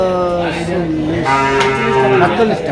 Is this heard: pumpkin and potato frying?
no